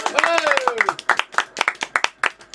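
An audience claps for a musician during a casual talk show, sharp separate claps in a quick uneven rhythm, with a voice talking and a brief whoop over the clapping near the start.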